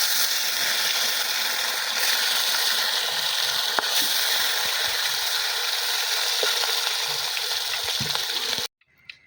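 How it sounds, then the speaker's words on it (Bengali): Catla fish pieces frying in hot oil, a loud steady sizzle that runs continuously for several seconds, then cuts off abruptly. "তেলটা দিয়ে দিয়েছি, গরম হয়ে গেছে। মাছগুলো ভেজে নেব,"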